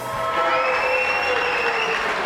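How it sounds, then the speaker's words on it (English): A loud studio crowd applauding and cheering, with dense, continuous clapping that holds steady throughout, close and full. "Man, that crowd is loud."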